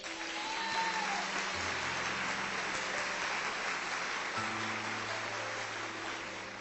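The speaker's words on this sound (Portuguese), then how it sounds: "a cada testemunho você pode aplaudir" Audience applause at a religious gathering after a healing testimony, a steady dense clatter of clapping sustained throughout under faint tonal background sounds.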